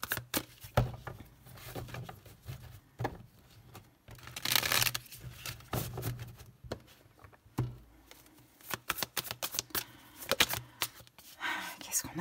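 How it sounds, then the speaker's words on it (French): Tarot cards are shuffled and dealt out by hand: soft, close riffles, slides and light taps come in irregular bursts over about twelve seconds, with a low voice heard now and then. "on va poser les 6 cartes"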